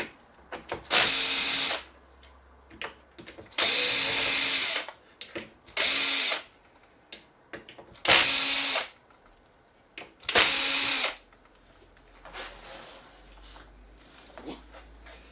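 Power screwdriver removing screws from a Samsung television: several short, loud whirring bursts start and stop in an uneven rhythm, separated by quiet gaps with faint handling clicks.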